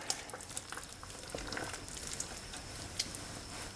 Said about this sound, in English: That is simmering up very, very nicely.